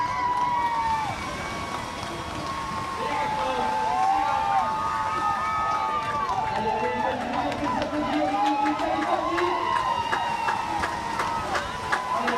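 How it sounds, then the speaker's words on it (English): A crowd cheers and shouts through an outrigger canoe race at a world distance championship, a steady dense roar of voices with whistles and calls, while an announcer talks loudly over it the whole time. "You can hear the crowds cheering out there"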